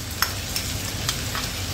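Garlic sizzles and fries in a pan, a steady crackling hiss with a few light stirring clicks, close and alone.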